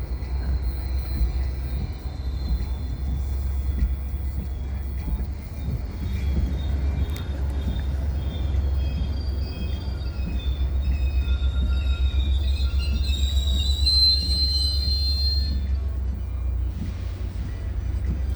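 A BNSF train hauled by an SD70ACE locomotive rolls past at a rail signal, a steady low diesel rumble running throughout with faint high metallic squeals and rail noise rising in the later part.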